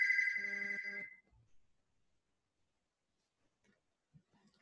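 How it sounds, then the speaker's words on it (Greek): An alarm with a ringing tone like a telephone bell sounds for about a second at moderate loudness, then stops, leaving near silence with a few faint soft noises. "Αυτό μπορεί να μοιάζει με τηλέφωνο, αλλά είναι αλάρμ."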